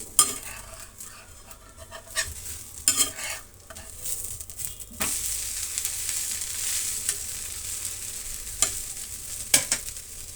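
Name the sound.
onion dosa being flipped and cooking on pan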